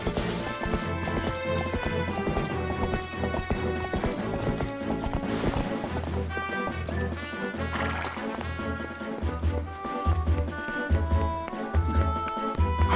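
A horse's hooves clip-clop in a quick, steady rhythm in the video game Twilight Princess HD, loud and close, layered over dense music with a thumping low beat.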